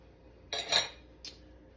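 A utensil stirs cobbler dry ingredients (brown sugar, baking powder and salt) in a bowl, heard as a brief scraping clatter followed by one quick, faint clink against the side.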